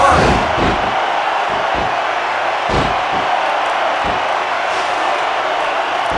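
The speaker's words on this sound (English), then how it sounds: "This compassionate crowd is solidly behind their superstar." A loud arena crowd in the WWE Raw vs Smackdown 2006 wrestling video game roars and cheers steadily throughout, a dense wash of noise punctuated by a few sharp thuds from the ring.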